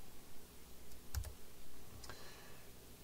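Keypresses on a ZX Spectrum Next keyboard, a couple of soft close clicks, the first sharper and the second fainter, over quiet background.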